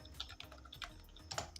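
Quiet, irregular clicking of keys being typed on a computer keyboard, a run of light taps alone with no voices.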